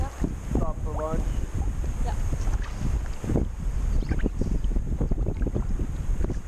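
Steady breeze buffeting the microphone while kayaking on open water, a constant low rumbling wind noise with gusty fluctuations and faint splashes and chirps mixed in.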